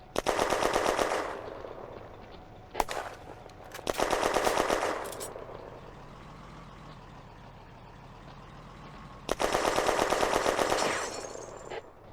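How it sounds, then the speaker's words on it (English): A high-velocity gun fires in the World War II game Firefight, set in May 1940, with loud rapid bursts of repeated shots in three separate volleys and a low engine rumble between them. "Suddenly, a high-velocity gun fires at the French."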